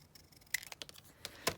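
Scissors snip through a book page in a few quick, faint cuts, separate crisp clicks and rustles close up with quiet pauses between them.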